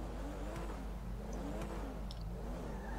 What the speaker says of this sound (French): C'est plutôt une belle voiture, ça. Oula, elle fait un beau bruit